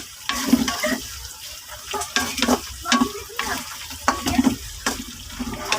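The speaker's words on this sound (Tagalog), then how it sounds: "So dahil crispy na yung ating meatloaf, ihalo na natin siya sa pagmimix." Crispy meatloaf is stirred and fried in a pan, with a steady sizzle under a spoon scraping and tossing the pieces at close range.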